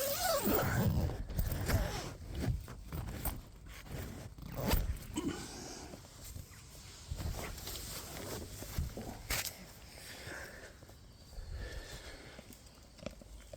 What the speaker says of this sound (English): we're going to zip that back up because I don't want it being shared with bugs